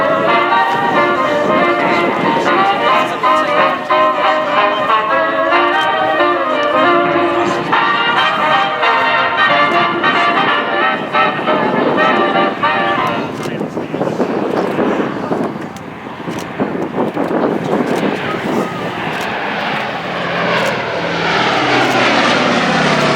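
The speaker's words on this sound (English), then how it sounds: "About to run in from our left, the much-loved Boeing B17G Flying Fortress Sally B." A Boeing B-17G Flying Fortress flies past at an airshow, its piston engines and propellers producing a loud, sustained droning roar that swells as it passes close by, then shifts and fades slightly as it moves away, with wind buffeting the microphone.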